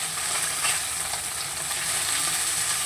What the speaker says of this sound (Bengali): ও পিঠটাও মাছটাকে ভালো করে ভেজে নেব।